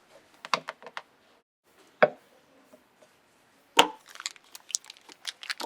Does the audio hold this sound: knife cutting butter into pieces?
yes